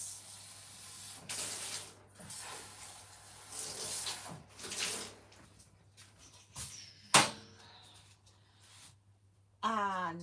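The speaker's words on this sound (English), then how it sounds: "Let me give that a quick rinse." Tap water running over hand-dyed pale blue yarn as it is rinsed in a sink, a hissing spray that swells and fades with splashes, fairly faint, with a voice briefly at the end.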